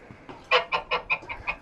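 Geese call at close range with a quick run of about six honking, clucking notes in steady rhythm, fairly loud and with no talk over them.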